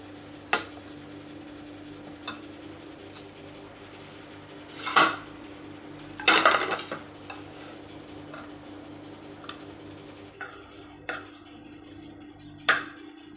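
A palm flour mixture is stirred in a pan on a stove, giving sparse, scattered scrapes and metallic clinks over a quiet hum, with a few louder knocks of the spoon against the pan.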